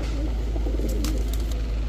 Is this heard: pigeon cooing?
yes